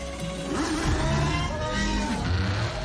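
A high-revving car engine screams in the racing game Forza Horizon 5, a loud, continuous whine whose pitch sweeps up and down with gear changes, filling the whole moment with no talk.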